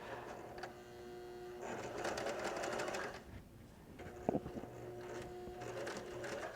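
A home sewing machine stitches a potato bag, whirring steadily through most of the clip with a brief dip in the middle.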